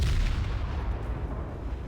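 Heavy naval guns of the Italian battleship Dante Alighieri firing in War Thunder Mobile, a deep, rumbling boom that rolls and decays over a couple of seconds, with no talking.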